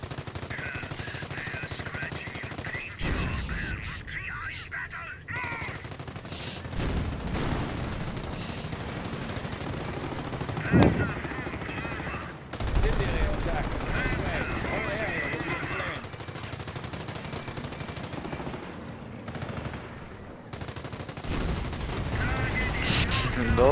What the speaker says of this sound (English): if they just strafed tanks with bullets, like that was gonna help